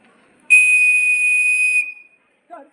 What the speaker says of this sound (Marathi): एक दीर्घ शिट्टी म्हणजे जर शिट्टीचा आवाज जर मोठा असेल दीर्घ असेल